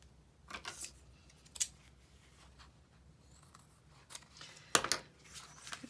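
Scissors trim a sheet of fun foam in a few quiet, separate snips, with one sharper cut near the end, under a soft room hush.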